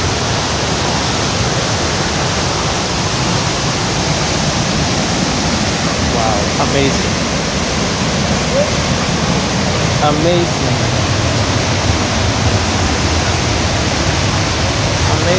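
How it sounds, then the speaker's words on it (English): Steady roaring rush of a waterfall close to Nairobi, Kenya, a loud broadband wash running unbroken throughout, with a voice briefly speaking over it. "See the waterfall, eh? This is just 2 kilometers from Nairobi city."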